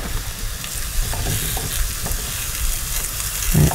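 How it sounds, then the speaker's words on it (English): Mushrooms sauté in avocado oil in a pan with a steady, close hiss and crackle, broken by soft scrapes of stirring, with no talk. "I'm just gonna saute some mushrooms here first"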